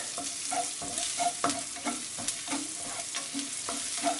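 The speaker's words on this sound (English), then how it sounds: "Now add the turmeric, stir it a bit." Turmeric being stirred into minced-meat kheema frying in a pan for kheema mattar: a steady close sizzle broken by regular scraping spoon strokes, with no talking.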